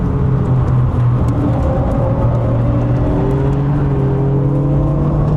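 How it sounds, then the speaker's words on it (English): A loud, steady engine drone with rising and falling pitch as an Alfa Romeo Giulia Quadrifoglio revs hard on the Donington Park track, heard from inside, continuous with no voices. "I'm feathering the throttle here and I can hear this BMW in front of me."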